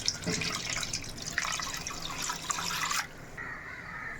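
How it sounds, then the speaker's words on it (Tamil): Water pours steadily into a pan holding fish, a splashing, bubbling rush for about three seconds, then stops, leaving a faint trickle and drip. "மீன் முழுகிற அளவுக்கு தண்ணி சேர்த்துக்கலாம்"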